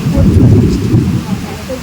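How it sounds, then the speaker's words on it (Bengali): Heavy rain pours down during a thunderstorm with low rumbling thunder, loud and continuous throughout, with no voices over it. "এরকম বৃষ্টি পড়লে তো বাস বাজ মানে অতিরিক্ত বাজ"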